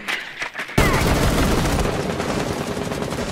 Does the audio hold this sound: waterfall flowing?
no